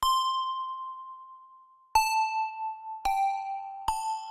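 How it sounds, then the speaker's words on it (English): The Bells preset on the TAL-Pha Alpha Juno II synth plays four clear bell-like tones, the first ringing out long and slowly fading, then three more struck at intervals, bright and metallic with shimmering overtones, alone. "Bells preset."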